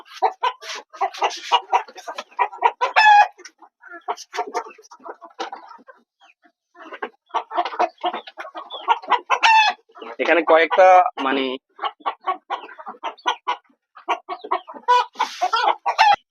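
Layer-type hens in a rooftop garden coop cluck in repeated short bursts, close and fairly loud, mixed with a person talking at intervals.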